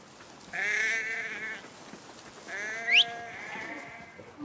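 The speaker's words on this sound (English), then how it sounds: "There's a sheep." A sheep in the video game Assassin's Creed Mirage bleats twice, each call a clear, drawn-out wavering cry standing alone over quiet game ambience.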